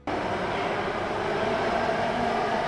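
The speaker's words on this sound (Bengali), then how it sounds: "এই মেট্রোটা ড্রাইভারলেস পুরো" A driverless metro train in New Delhi runs with a steady, loud rumble and rushing roar heard from inside, starting abruptly and holding constant throughout.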